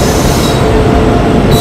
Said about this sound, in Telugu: ఈ ట్రైన్ ఇప్పుడే వస్తుంది అనమాట